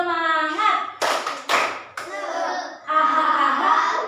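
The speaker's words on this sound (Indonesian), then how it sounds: "Tepuk semangat." A group of children and adults doing a 'tepuk semangat' spirit clap, a few sharp loud clap bursts that fall between chanted syllables, with speech and chanting throughout.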